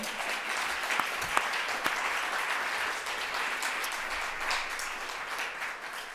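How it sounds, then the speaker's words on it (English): Sustained applause from a documentary festival audience at a craft summit session in Sheffield, a dense steady patter of many hands clapping for about six seconds at moderate level with no talk over it. "If you can give a big round of applause for them."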